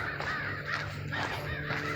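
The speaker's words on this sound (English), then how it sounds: "There's a bunch of crows up there." Several crows caw in repeated harsh bursts from the trees overhead in a warm pine woodland park, fairly close and clear over a steady background hum.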